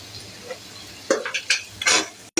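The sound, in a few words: stir-frying spices in a pan for beef liver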